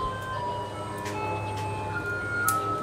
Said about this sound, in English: in the background, you'll hear our friendly neighborhood ice cream truck